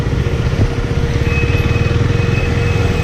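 2017 KTM Duke 390 single-cylinder motorcycle engine heard while riding, a steady low pulsing thrum close up with a constant rumble and no talk.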